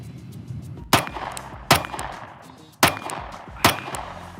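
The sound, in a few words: Glock G43X pistol being fired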